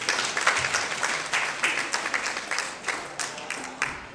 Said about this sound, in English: Please give her a round of applause one more time.